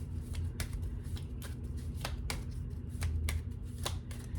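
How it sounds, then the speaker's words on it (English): A Romance Angels oracle card deck is shuffled by hand, giving a string of crisp riffling snaps at an irregular pace over a low steady hum. "Let's pull a Romance Angels card for you."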